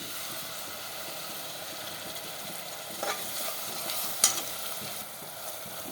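Ground green masala of green chilli, mint and coriander fries with onions in oil, a steady soft sizzle and crackle with a few brief stirring clatters, close and continuous without talk.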